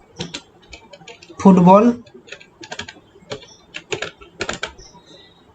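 Typing on a computer keyboard while writing CSS code, heard as scattered bursts of close, crisp key clicks, with a brief spoken word partway through.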